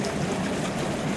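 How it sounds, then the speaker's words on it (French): Jacuzzi bubbling bath at a thermal spa, a steady dense wash of churning, gurgling water that stays even and fairly loud throughout the short stretch, with no voices. "le bain bouillonnant."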